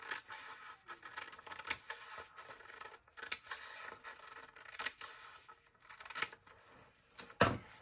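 Scissors cutting through a paper coat pattern, sounding as a run of soft crisp snips and rasping paper rubs at close range, with brief pauses and a louder crinkle near the end.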